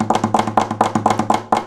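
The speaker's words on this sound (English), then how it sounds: "When you use the flamenco triplet on the wood, it sounds like this." Flamenco triplet strokes tapped on the wooden body of an acoustic guitar, a steady run of quick, close percussive knocks grouped in threes with ringing string resonance underneath, heard alone.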